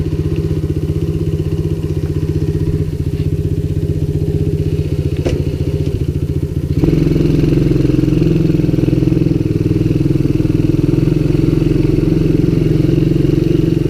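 Coolster Mountop 125 ATV engine running steadily through a ride, a loud continuous low drone that grows fuller and rougher about halfway through as the throttle opens, with occasional clatter and thumps over rough ground.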